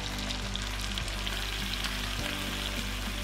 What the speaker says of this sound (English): Let them start frying up.